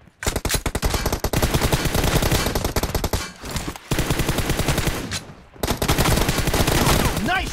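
Rapid sniper rifle shots from an M24 in a mobile shooter game ring out in dense, loud bursts that run nearly nonstop, broken by two brief pauses.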